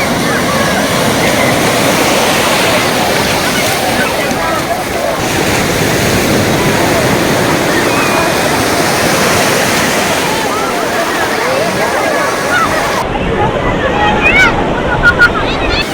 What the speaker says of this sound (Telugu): సముద్ర అల వచ్చి మన కాళ్ళను తాకి వెనక్కి వెళ్ళేటప్పుడు శాండ్ని కూడా లాక్కెళ్ళిపోతుంది